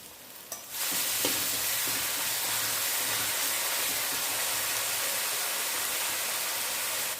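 Ginger garlic paste and browned onion hitting hot oil for a Kolhapuri mutton curry, a sudden loud sizzle after a brief quiet start, then a steady hiss of frying close up.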